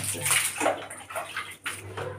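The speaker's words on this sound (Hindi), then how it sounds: "पहले हम पानी से थोड़ा सा इसको गीला कर लेते" Water splashes onto bathroom floor tiles being wetted before cleaning, a close, uneven sloshing and spattering that runs throughout with brief breaks.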